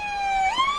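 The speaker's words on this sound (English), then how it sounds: "obviously you can hear the sirens." Police car siren at a Christmas parade, a steady wailing tone that sweeps upward midway, loud and close with no talk.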